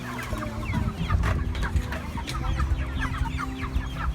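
Cornish Cross meat chickens cluck in a close, busy chorus, many overlapping clucks and chatter over a low background rumble, with no talking.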